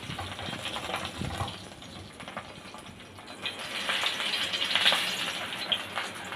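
Bottle gourd leaf fritters with dried fish sizzling in hot oil, a steady crackling hiss that swells louder toward the end, close by with no talking over it.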